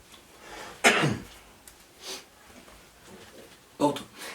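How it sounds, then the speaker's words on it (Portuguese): A single sharp cough bursts out near the start and a second shorter cough follows a few seconds later, both close and loud against a quiet room, from someone pausing during a lesson. "Corta um pouquinho que eu vou tossir."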